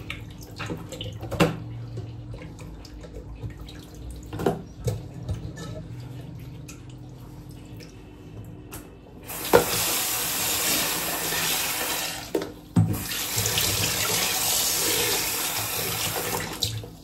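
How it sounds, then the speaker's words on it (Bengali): Puti fish being rinsed under a running kitchen tap, a steady broadband rush of water that starts partway through, pauses briefly, then resumes; earlier there are scattered knocks and clatter. "আজকে মাছটা আমাকেই ধুয়ে পরিষ্কার করতে হলো"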